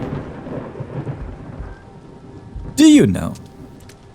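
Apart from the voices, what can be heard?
thunder and rain in the video game The Seance of Blake Manor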